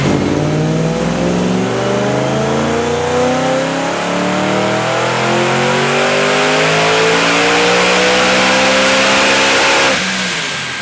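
A supercharged BMW E90 M3 engine revs hard and continuously on a dyno, pitch climbing steadily through a long sustained pull, then cuts off abruptly near the end.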